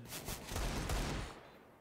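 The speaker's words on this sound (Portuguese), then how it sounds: "Olha os tiros aí" Counter-Strike gunfire on the Inferno map rattles in a quick burst of rapid shots, fairly faint and short.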